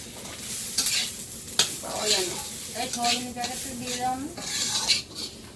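Mung dal for khichuri fries in a pan, a steady close sizzle with scraping stirs, while a voice speaks briefly over it.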